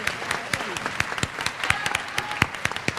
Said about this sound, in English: One more round of applause for this amazing group of.